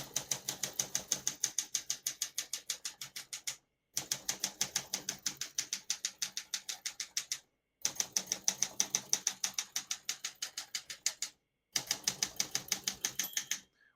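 Rapid, steady mechanical keystrokes on a 1972 Olympia SM9 manual portable typewriter in bursts of several seconds, separated by brief pauses, close and clear with no talking.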